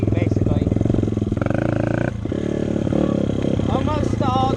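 A cold dirt bike engine nearly stalling, heard up close as a loud, uneven idle that sputters and dips before catching again, with a voice talking over it.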